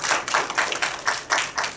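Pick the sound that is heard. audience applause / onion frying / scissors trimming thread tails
audience applause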